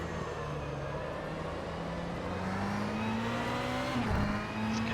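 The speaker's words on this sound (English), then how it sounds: "Oh, I think it's a blown engine. It's going very slow." Ferrari 488 GT3 with a blown engine in a racing video game at Donington, crawling slowly: a steady, moderately loud engine drone whose pitch climbs gradually, with a brief dip near the end and no talking.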